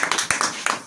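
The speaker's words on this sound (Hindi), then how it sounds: "चलिए, ताली के साथ स्वागत कर दीजिए।" A small group claps in welcome, a handful of sharp, uneven hand claps close by that quickly die away within a second.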